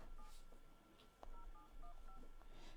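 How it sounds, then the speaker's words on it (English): Telephone keypad tones beep in a quick series of short, evenly spaced presses as a number is dialed for a phone call, heard over a steady background hiss. "Okay, someone's phone's gonna be ringing."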